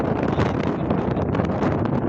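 Wind blows steadily through a neem tree, a dense, broadband rustle of leaves with gusty swells and buffeting close to the microphone, continuous and fairly loud with no voices.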